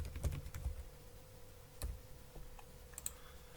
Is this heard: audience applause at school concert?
no